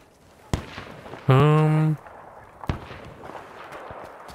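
Gunfire in the video game Battlefield V: two sharp, isolated shots a couple of seconds apart over quiet background rumble, with a short tonal sound between them.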